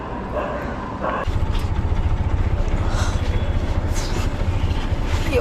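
An auto-rickshaw engine near a station in hot weather starts a loud, close, rapid putter after a quieter opening second and keeps running steadily, with faint sounds around it.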